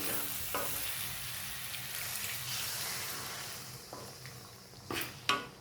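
A pan of egg masala sizzles steadily and loudly as water is added, with a few sharp clinks of utensils near the end; no voices.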